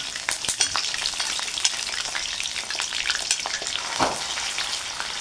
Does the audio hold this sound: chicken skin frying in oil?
yes